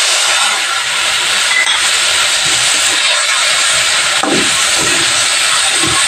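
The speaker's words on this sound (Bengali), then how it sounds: "এবার এটাকে কিছুক্ষণ কষিয়ে নেব যতক্ষণ না তেল ছেড়ে দেয়" Spice paste sizzling in hot oil with fried potatoes for a fish chorchori, a loud, steady hiss that fills the clip with no talk.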